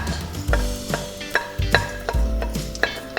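Garlic sizzling in a pan with onion and ginger, steady frying hiss broken by regular scrapes and knocks of a spatula stirring, close and fairly loud.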